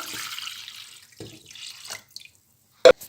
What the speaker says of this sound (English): So we put the water first.